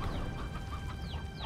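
Chickens cluck in the video game Slime Rancher, a steady run of soft, overlapping clucks and calls close by over a dense game backdrop, with no talking.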